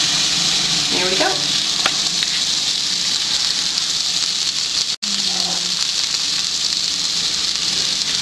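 Burgers fry in a pan on medium-high heat with little fat, giving an even, continuous sizzling hiss from start to finish, with a sharp click partway through and faint voice-like sounds near the start.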